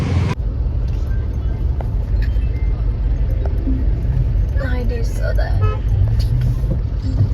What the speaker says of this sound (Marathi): सिग्नल आहे सिग्नल सिग्नलचे ट्रॅफिक आहे